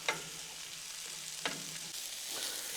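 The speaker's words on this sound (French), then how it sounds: "mon butternut, mes oignons, on va juste les sauter un petit peu" Butternut squash and onions sauté in a pan over a barbecue grill, giving a steady sizzle broken by a few sharp utensil scrapes as the pieces are stirred.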